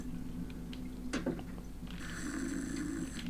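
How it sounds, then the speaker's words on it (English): A guard snoring in the stealth game Thief: Deadly Shadows, faint rasping breaths under a low ambient hum, with a soft thump and a faint high-pitched tone joining partway through. "Someone's snoring."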